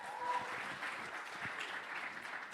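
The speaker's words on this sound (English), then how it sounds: "Can we give a big round of applause to Harry?" Steady audience applause at a Sharelle McMahon Medal presentation in 2024, a dense, even wash of clapping that holds throughout without pause.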